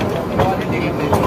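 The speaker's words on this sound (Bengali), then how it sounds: "টয় ট্রেনে উঠে পড়েছি সিমলা থেকে কালকার উদ্দেশ্যে। আর ট্রেন আমাদের ছেড়েই দিয়েছে।" Shimla-Kalka toy train pulling away and rolling along, a steady rumbling rattle of carriages with brief swells, close and continuous, with people talking over it.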